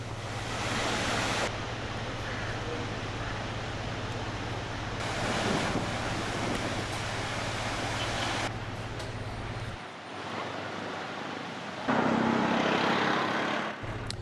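Heavy rain driven by strong wind in a hilly central highland region, a dense, constant roaring wash with gusty buffeting against the microphone, growing louder and harsher toward the end.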